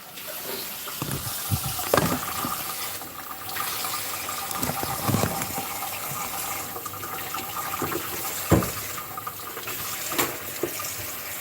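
A kitchen tap runs as a plastic bottle is rinsed, with water gushing and splashing unevenly, swelling and dipping with occasional louder sloshes, with no voices.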